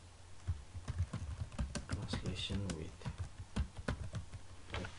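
Fingers tap quickly on a computer keyboard, making a stream of light, uneven key clicks while a person talks over them.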